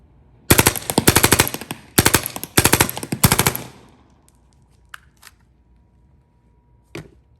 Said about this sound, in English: on this model, the M17 M5, you can have the ability to shoot semi or full auto